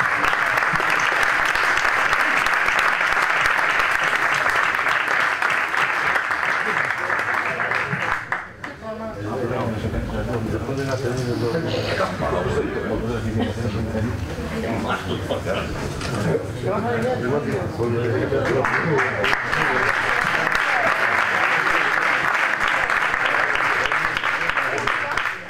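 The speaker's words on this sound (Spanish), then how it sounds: "Un aplauso, por favor." Audience at a boxing gala applauds in a long, dense burst of clapping, fading out as a voice speaks through the middle stretch before the clapping swells again.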